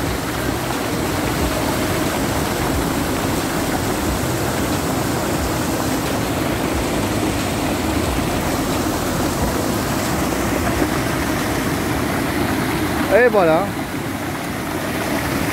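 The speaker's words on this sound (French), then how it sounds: "ça c'est donc la troisième cascade de Trans-en-Provence" The third waterfall at Trans-en-Provence pours in a constant, dense rushing roar close by, and near the end someone briefly speaks over the steady cascade.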